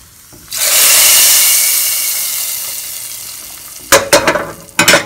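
Spiced tempering with paprika hits a pot of mixed dal and sizzles loudly, a bright hiss that swells at once, then slowly fades over several seconds, followed by a few short stirring clatters near the end.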